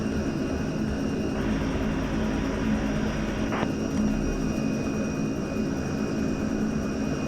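Before takeoff, the engines of a KLM Fokker 27 Friendship turboprop drone steadily inside the cabin with a constant whining tone, loud and close, with no change in level.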